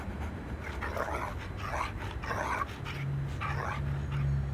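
Stray dogs living alongside humans pant and give small whimpering, breathy vocal bursts in rhythmic pulses, fairly close, over a low background rumble.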